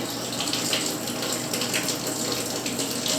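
Water runs steadily from a tap into a tray, a close, continuous rushing hiss with no pauses.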